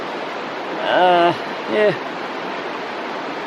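A small mountain stream in New Zealand flows in a steady, even rush of water, with someone briefly speaking over it.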